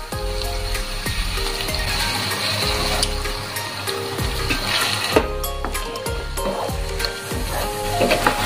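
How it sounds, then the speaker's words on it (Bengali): Coconut thinned with water tipped into a pan of frying spice paste for a jackfruit malai curry, giving a steady loud watery sizzle and splash that carries on without a break, with no voices. "এইবার আমি নারকলটাকে একটু জল মিশিয়ে দিয়ে এটা দিচ্ছি।"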